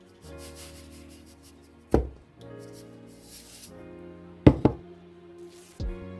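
Rock salt is rubbed onto a whole herring with soft scraping strokes, broken up by a few sharp, close knocks as the fish or salt hits the board.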